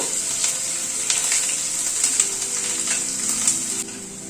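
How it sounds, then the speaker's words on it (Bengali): Eight to ten cloves of crushed garlic fry in hot oil, giving a continuous close bright sizzle with light stirring scrapes and small crackles, and no one talking. "রসুনটা দিয়ে হালকা করে একটু ভেজে নেব।"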